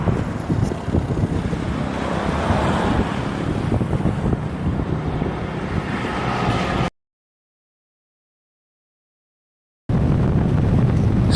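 Strong wind buffets the microphone of a Yamaha XMAX 300 scooter rider on a hot afternoon, a steady roar for several seconds, cuts to silence, then resumes just as loud.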